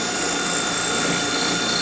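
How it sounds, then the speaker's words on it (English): A regular variable-speed corded drill bores a hole for a Tapcon masonry screw without hammer function, giving a loud, steady, continuous whir close up throughout. "I'm going to use a regular drill to demonstrate. Just a VSR drill."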